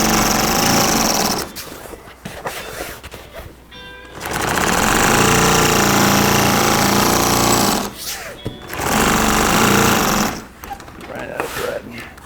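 A sewing machine stitches a seam in bimini canvas for a 38-foot Sea Ray boat, running loud and close in long continuous whirring stretches broken by brief stops.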